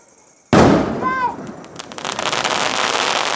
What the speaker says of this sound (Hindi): ये देखो पटाखा फोड़ा,